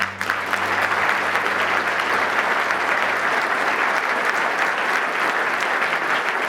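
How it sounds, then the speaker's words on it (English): Steady, dense applause from a large audience honoring military veterans at a mayoral event, a continuous wash of clapping that holds evenly throughout with no pauses. "Please give them a round of applause."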